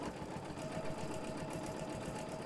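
A Janome sewing machine stitching thread drawing, a steady fast rhythmic whirring hum that runs continuously and close.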